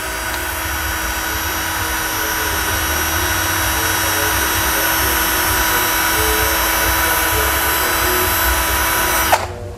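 A DCK KDJZ1202 12V cordless drill runs in second gear with a loud, steady motor whine held without a break for nearly ten seconds, then cuts off with a click at the end.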